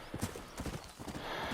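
Horse hooves clip-clop in the Red Dead Redemption video game, a quick, even trot of hoofbeats that sounds faint and somewhat muffled.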